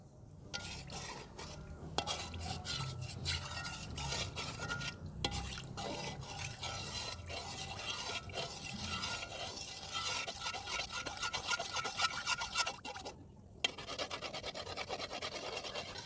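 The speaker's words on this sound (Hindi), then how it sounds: "आप देख रहे हैं मैं बस ऑयल को हिला रही हूँ" Oil being stirred steadily around frying gulab jamun in a pan, a continuous close scraping and swishing with faint bubbling and occasional clinks of the utensil against the vessel, alone with no talking.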